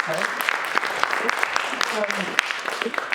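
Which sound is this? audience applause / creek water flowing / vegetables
audience applause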